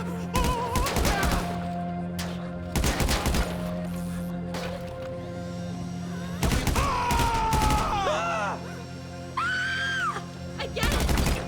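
Gunfire during a bank heist in GTA V Online, heard as a few sharp bursts of shots over a steady game background hum, with voices talking and shouting in between.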